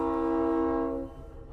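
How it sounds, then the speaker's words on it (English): A train horn blares loudly in a long sustained blast, then cuts off, leaving the low rumble of the train running underneath. "What's getting off of that train?"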